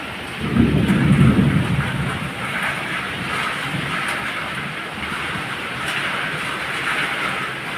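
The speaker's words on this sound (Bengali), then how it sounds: "দেখো কত জোর বৃষ্টি হচ্ছে, হাওয়া দিচ্ছে, কেমন বৃষ্টিও হচ্ছে প্রচণ্ড" Thunder rolls in a deep, loud rumble early on over a heavy thunderstorm downpour, then the rain continues as a steady, close, hissing roar for the rest of the stretch.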